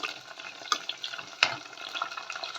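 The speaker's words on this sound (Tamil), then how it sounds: "இந்த ஸ்டேஜில் கத்திரிக்காய் போட்டுக்கலாம் கத்திரிக்காய் நல்லா எண்ணெயில் வதங்கணும்" Eggplant pieces fry in hot oil with garlic for a Tamil kuzhambu, giving a soft continuous sizzle broken by a few sharp scraping clicks as a spoon stirs the pan, close and quiet.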